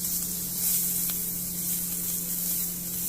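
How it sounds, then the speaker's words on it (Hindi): Garlic sautés in a teaspoon of butter in a pan, a steady broad sizzle and hiss running throughout at moderate level, with a faint low hum underneath and no voices. "में डाल देंगे 1 चम्मच बटर को, फिर डाल देंगे इसमें गार्लिक, अच्छे से इन्हें सौटे कर ले।"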